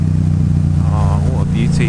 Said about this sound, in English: it's so hard not to rev this bike